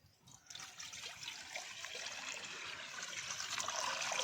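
Water is poured outdoors while cooking biryani at a picnic, a faint trickling splash that grows steadily fuller and louder.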